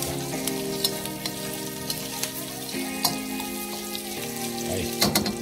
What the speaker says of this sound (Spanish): ya vamos a ir echando los ajos en el chorizo